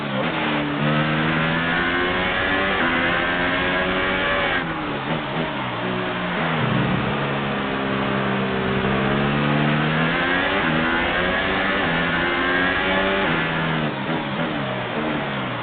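An F1 race car engine in F1 2018 pulls into the pits, holding a loud, steady mid-pitched whine that rises and falls with small throttle changes for the whole stretch.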